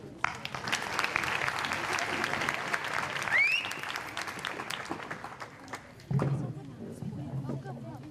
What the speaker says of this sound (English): Let us give them a round of applause, everybody.